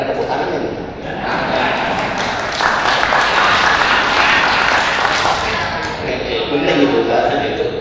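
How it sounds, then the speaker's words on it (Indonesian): Audience applause fills a formal plenary council session of the Surakarta city legislature, a dense, steady wash of clapping that holds at full strength throughout, with crowd noise mixed in. "Berani tepuk tangan ya"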